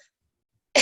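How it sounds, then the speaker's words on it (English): A woman coughs in a short, loud burst near the end of the moment, following near silence, close and alone with no talk over it. "I can't stop coughing."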